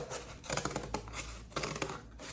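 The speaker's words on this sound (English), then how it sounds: "Just trimming around so that we have a circle for our base of our trophy." Scissors cut around a circle of cardboard for the base of a kids' craft trophy, giving a close series of crisp snipping and crunching cuts in an uneven rhythm.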